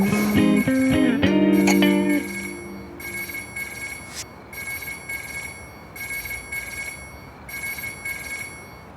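A telephone rings in a Turkish romantic drama dubbed into Urdu, with a few clear repeated ring bursts, one after another, over steady background hiss after a short stretch of louder sound at the start.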